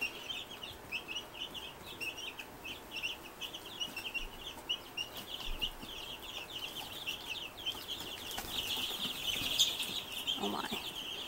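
A brood of egg-laying chicks about two and a half weeks old cheeps constantly in a busy overlapping chorus of high, thin peeps, close by and moderately loud, with soft rustling beneath.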